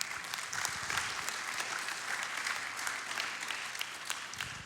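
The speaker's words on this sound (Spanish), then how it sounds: "Alguien le da un aplauso al Señor." Steady applause from a church congregation, many hands clapping in a dense continuous patter that holds throughout and fades slightly at the end.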